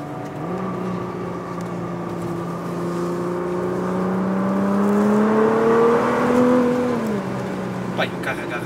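A Nissan GT-R R35 accelerates with a smooth engine note that climbs steadily in pitch through the gears, growing louder toward the end before dropping away, with a faint voice in the background.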